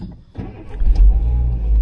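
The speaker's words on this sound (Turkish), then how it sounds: "Şimdi arabayı bir çalıştıralım." A car engine cranks and catches, settling into a loud, close low rumble that holds steady through the rest of the short moment.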